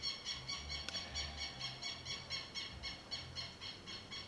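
Faint high-pitched bird calls repeat in a quick, steady rhythm outdoors, with no talking.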